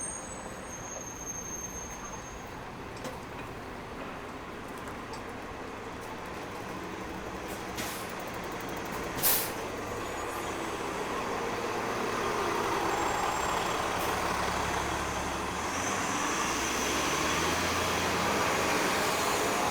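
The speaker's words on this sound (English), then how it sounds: "And those buses are running in place of the streetcars." City buses on Queen Street West in Toronto idle and rumble in steady street traffic, a constant low engine drone with a brief hiss near the middle and a slowly rising roar toward the end.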